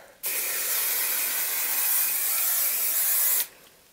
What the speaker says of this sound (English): so just keep spraying and kind of tossing up the curls like this